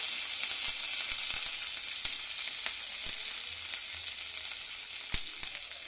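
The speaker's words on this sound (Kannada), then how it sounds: "ಚೆನ್ನಾಗಿ ಫ್ರೈ ಆಗಬೇಕು." Pundi soppu greens with garlic fry in a pan with a steady, close hiss of sizzling oil, punctuated by occasional soft taps of stirring and no voices.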